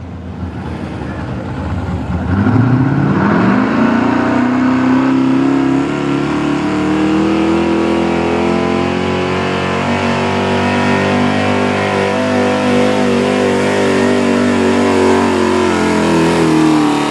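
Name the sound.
V6 engine revving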